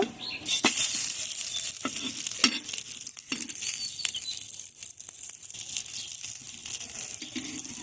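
Food shallow-frying in a little oil in a covered pan as it is flipped, with a steady close sizzle and crackle broken by scraping, clattering turning sounds.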